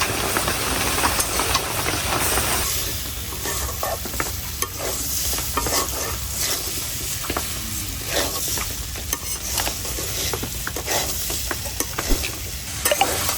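Spices with salt and turmeric get stirred in a frying pan, a constant sizzle broken by repeated scraping strokes of a spatula in an irregular rhythm, close and fairly loud with no talking.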